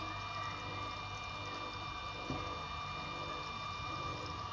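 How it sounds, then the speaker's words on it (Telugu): Water from a pump gushes forcefully into a bottle, giving a steady rushing pour over a constant motor hum, quiet and close. "వాటర్ సౌండ్ కూడా చూసారా ఎంత ఫోర్స్తో ముందు బాటిల్లోకి వచ్చేసింది."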